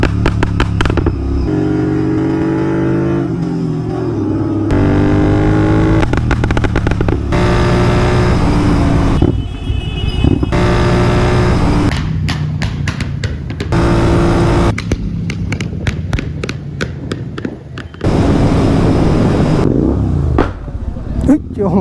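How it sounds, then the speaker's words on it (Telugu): A tuned Royal Enfield Continental GT 650 motorcycle accelerates hard through the gears, its loud close engine note climbing and dropping with each shift, punctuated by throttle blips and gear changes, while someone talks over parts of it. "ప్రెసెంట్ అయితే మన దగ్గర royal Enfield continental GT 650 bike అయితే ఉంది."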